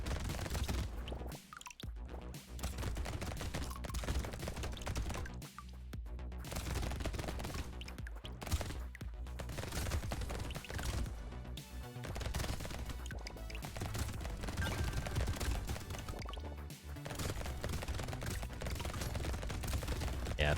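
Dense, continuous gunfire from the arena shooter Brotato, steady rapid shots layered over busy game music and effects, loud and unbroken throughout with no pauses.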